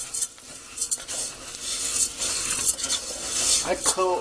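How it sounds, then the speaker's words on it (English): Rice coated with oil and salt stirred in a pot, a spoon scraping and rasping in repeated strokes over a light sizzle, close up, with a brief squeaky scrape near the end. "So the oil's in there, salt's in there, the rice in here. Let's just stir it up a little bit."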